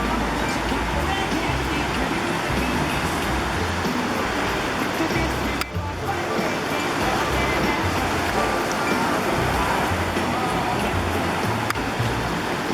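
Strong waves surge at New Liwa beach in Zambales, a constant broadband roar of surf with a brief dip midway; voices can be faintly made out beneath the rush.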